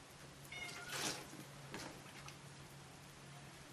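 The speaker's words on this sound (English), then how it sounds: "I got my little cat over here that loves to come around." A small cat meows softly once or twice, faint and somewhat distant, over a quiet background hum with no talking.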